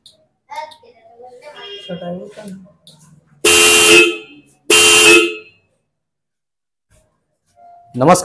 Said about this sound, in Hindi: देख सकते हैं यहाँ पे D95 हॉर्न, इनो मिंडा का हॉर्न है ये हमारे पास